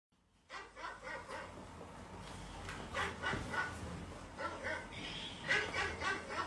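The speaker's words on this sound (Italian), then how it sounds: "perché si sente abbaiare" A dog barks repeatedly inside a bedroom, the barks muffled and moderately distant, coming in short irregular bursts over a steady low background.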